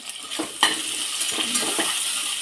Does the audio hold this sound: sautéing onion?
yes